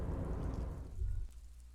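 Steady rainfall in the video game Disco Elysium, a dense hiss that fades and cuts off abruptly partway through, leaving a quiet low hum.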